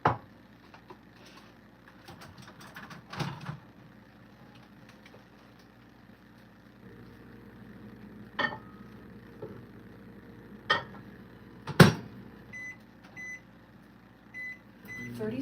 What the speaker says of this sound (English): Now we're going to put both of these into the microwave.